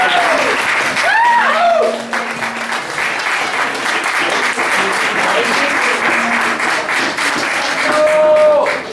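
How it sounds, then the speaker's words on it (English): Loud audience applause at a poetry open mic, with steady clapping throughout, joined by whistles and cheers from the crowd. "please stand up so we can give you some applause"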